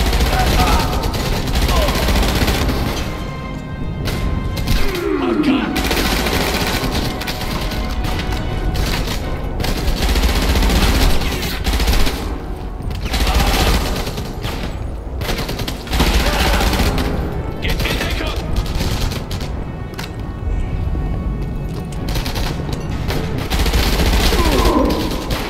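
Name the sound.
gunfire in a WWII video game (Enemy Front)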